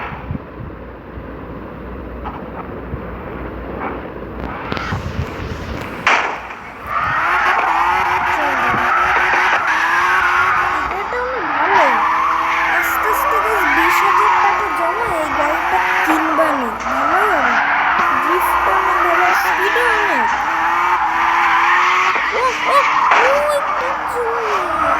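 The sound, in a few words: car drifting in video game CarX Drift Racing 2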